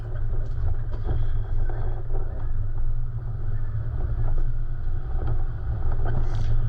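A vehicle crawls downhill in second gear low range on a night run down the Buckland Spur track, giving a low, steady engine rumble under constant wind buffeting, with no voices.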